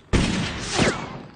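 A single loud gunshot crack in a Western cowboy film set in a dark canyon ambush, followed by a ringing echo that fades over about a second.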